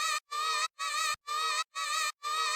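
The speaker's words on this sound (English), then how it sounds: "there's also a drone going on top of this." A buzzy synth drone layer in a music track pulses in short, evenly spaced bursts with brief silent gaps between them, harmonically rich and insect-like, with no voices.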